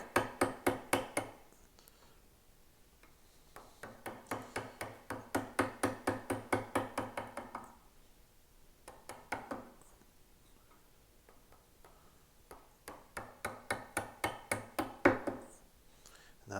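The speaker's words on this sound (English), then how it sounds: "Now to create this, I'm going to use the chisel again, but come at it from both directions." A chisel carves a curved lamb's tongue detail in wood, cutting from both directions. Crisp, regular tapping strokes come in repeated runs of about eight to ten, separated by short pauses, close and unaccompanied by talk.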